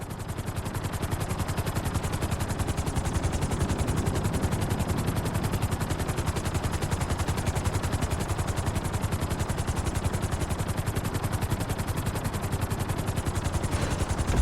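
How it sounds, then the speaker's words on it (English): Helicopter in the video game GTA V, landing on a helipad during flight school. A steady, rapid rotor chop drones loudly and evenly throughout, with no talking. "Bring the helicopter down gently onto the helipad."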